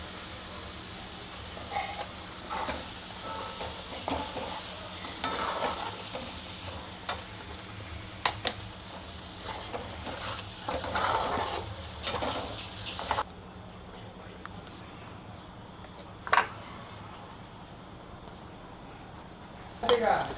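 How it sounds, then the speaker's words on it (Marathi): Ground masala paste for a katla fish curry sizzles and is stirred in a frying pan, with steady scraping and spattering for about thirteen seconds, then quieter simmering broken by a few sharp clinks. "मसाला परतून झालेला आहे."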